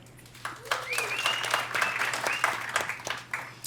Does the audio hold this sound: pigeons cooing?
no